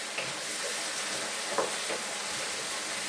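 Onions and potatoes fry in a pan with a continuous loud sizzle and a few faint scrapes of stirring, close and steady throughout.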